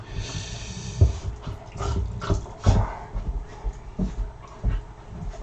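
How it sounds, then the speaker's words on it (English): Several dogs wrestling and play-fighting indoors, with bursts of growls, snarls and whimpers coming in uneven scuffles over a few seconds, fairly close. "It's just going to be a series of dog wrestling matches."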